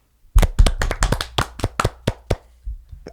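A single person claps about a dozen times, sharp and close, in an uneven quickening rhythm that slows and trails off into a few softer claps.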